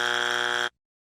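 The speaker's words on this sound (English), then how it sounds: "I would start with the Family Feud buzzer" Family Feud game show buzzer sound effect: a single loud, harsh electronic buzz lasting under a second, which then cuts off abruptly to silence.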